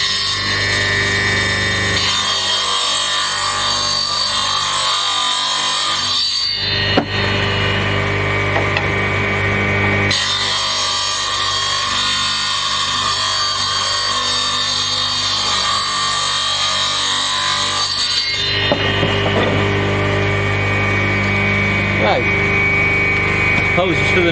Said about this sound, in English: Apologies for the noise of the saw. It is old,